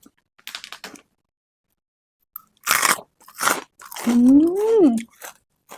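Crunchy bites into crispy charcoal-fried pork, several loud close crunches in quick bursts, followed by a voice making a rising and falling sound.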